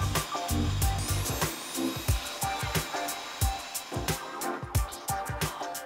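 A loud electric drill fitted with a curtain hook whirs and grinds continuously, with rattling, crunching bursts as grain is broken up.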